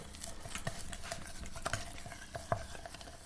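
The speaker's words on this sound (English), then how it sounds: "So I'm going to start mixing the peanut butter and molasses together." Soft, continuous stirring and smearing as thick peanut butter and molasses are worked together in a bowl, with faint scrapes and a few light utensil clinks, quiet and close.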